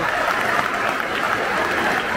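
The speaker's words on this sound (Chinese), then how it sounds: "起身鼓掌係要。" Stadium crowd at Anfield applauding steadily during Liverpool's final home match of the season against Aston Villa, a dense, continuous wash of clapping with no gaps.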